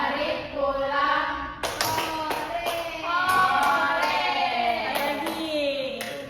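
Classroom rhythmic clap chant during a microteaching lesson: a group of students claps several sharp, roughly even bursts, fairly near, with children's voices chanting along throughout.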